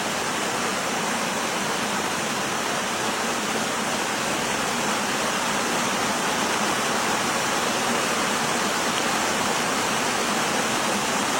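Water pours from an opened dam, a loud, steady broadband roar of rushing and falling water filling the whole scene without pause; the fish dropping with it cannot be picked out.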